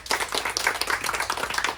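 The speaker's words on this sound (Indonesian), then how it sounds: "Oke, tepuk tangan untuk Borman." A small group claps hands at a condolence gathering, the individual claps loosely spaced and fairly near but moderately quiet, over about two seconds.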